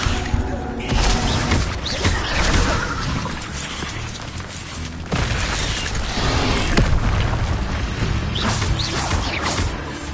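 Spell blasts from the Incendio fire charm in Hogwarts Legacy, a video game, sounding as repeated loud booming bursts and whooshing crashes over a dense, continuous roar of game effects.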